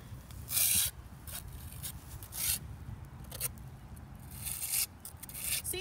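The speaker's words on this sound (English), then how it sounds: "Let me scrape all this." A dirty tombstone is scraped in short, gritty strokes, several bursts of rasping separated by quieter pauses, close up and moderately loud.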